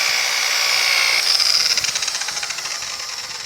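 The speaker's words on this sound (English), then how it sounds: "Lift up on the polisher a little bit, let it speed up on its own" Electric polisher with a polishing wheel running on the body of a 1950 Chevy truck, a steady high whine that climbs in pitch as it speeds up, then settles into a pulsing rhythmic hum, close and fairly loud.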